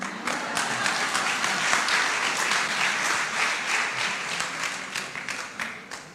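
A church congregation bursts into warm, continuous applause during a sermon, many hands clapping together at a steady, full level that tapers slightly toward the end.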